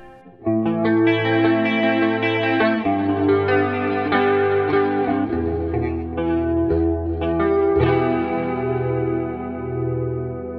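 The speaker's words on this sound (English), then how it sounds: "a nice atmospheric clean guitar sound, especially for black metal" Layered clean electric guitar chords, shaped in Guitar Rig 5 for black metal, ring out with shimmering chorus and echo, notes sustaining into a wide, spacious wash that plays steadily throughout.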